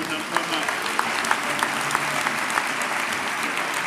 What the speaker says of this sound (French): Acclamez les enfants de Dieu.